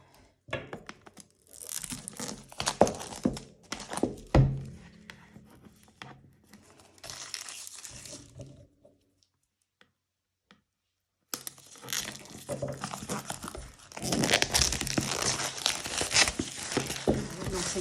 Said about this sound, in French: Donc on va l'ouvrir. Essayer de ne pas abîmer la boîte avec le ciseau.